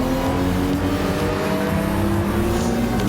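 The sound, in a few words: race car accelerating at full throttle on the Nürburgring straight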